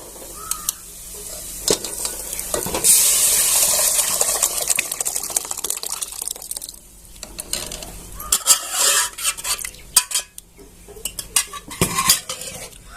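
Metal utensils clink and scrape against a pot as milk, rice and hot water are poured in and stirred, with irregular clatters and splashes close by.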